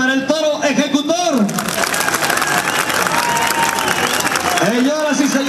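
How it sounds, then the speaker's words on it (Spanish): Loud, dense applause from a jaripeo rodeo crowd at the Iguala fair in Guerrero, steady clapping and cheering between brief announcer speech at the beginning and close. "El aplauso para el toro Ejecutor."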